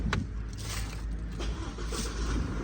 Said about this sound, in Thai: เดี๋ยวผมขออนุญาตนะ สตาร์ทสักนิดหนึ่ง